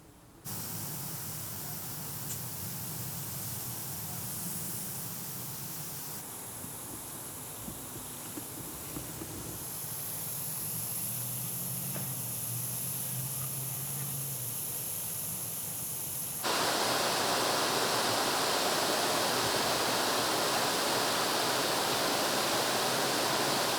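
Lawn sprinkler heads in zone 4 of a home irrigation system spray water in a steady hissing rush, the sound shifting partway through and growing louder and brighter for the final stretch.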